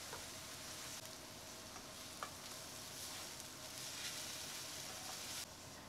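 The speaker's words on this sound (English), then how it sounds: "Blend them in and fry together with the onions for 2 to 3 minutes" Ginger and garlic frying together with onions in a pan for a Bengali topshe fish roast, giving a steady, fairly quiet sizzle throughout with a few faint clicks and no talking.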